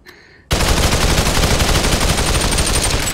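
Sustained automatic gunfire from the VR battle royale Population: One bursts in loud and close after a brief quiet start, then rattles on continuously without talk.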